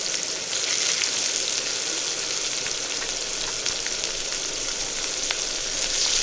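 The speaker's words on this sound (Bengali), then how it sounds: "তেলের মধ্যে ফরং দিয়ে দিলাম দারচিনি এলাচ লং শুকনো লঙ্কা তেজপাতা কেটে রাখা পেঁয়াজ কুচো দিয়ে দিলাম" Chopped onion with cinnamon, cardamom, cloves, dried chilli, bay leaf and five-spice seeds frying in hot oil for a Bihari egg curry, giving a steady close sizzle with faint crackles throughout and no talking.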